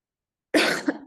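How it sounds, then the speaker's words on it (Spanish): A woman coughs once, close and sharp, with a short rough tail and a quick second burst at the end. "Disculpen que estoy con tos, por eso por ahí me van a escuchar tosiendo"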